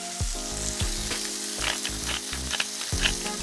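Ground meat seasoned with Cavender's and pepper sizzles steadily on a hot Blackstone griddle, a close, continuous crackle broken by a few dull scrapes and stirring knocks.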